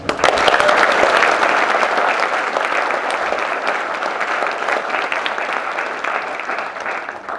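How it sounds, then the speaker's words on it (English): Graduates of a paramedic class applaud themselves at their ceremony, a dense, steady burst of clapping from a large group that holds loud throughout and eases off only slightly toward the end, with no voices over it. "Give yourselves a round of applause."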